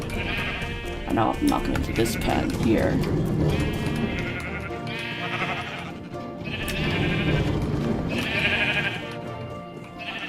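Sheep bleating in the Minecraft game, several repeated calls around a pen, moderately loud and recurring under continuous talking by a man.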